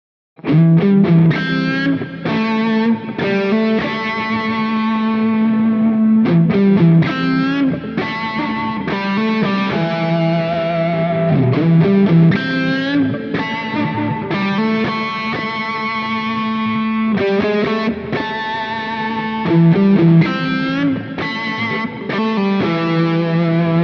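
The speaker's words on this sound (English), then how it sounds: "I want to play you a little bit more of the neck pickup." A sustained, smooth electric guitar lead on the neck pickup through a Line 6 HX Stomp plays melodic lines with warm distortion and chorus-like shimmer, loud and continuous with no talking.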